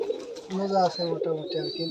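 Adult giribaj pigeons at a farm in Rajshahi give a run of low, repeated coos close by, with a voice mixed in at times.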